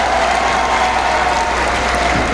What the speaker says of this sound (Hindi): मनोज कुमार जी के लिए एक बार जोरदार तालियां आप लोग मिलकर बजा दीजिए।